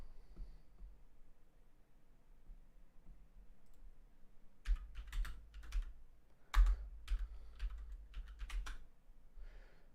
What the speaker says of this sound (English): Oops, typed that in wrong.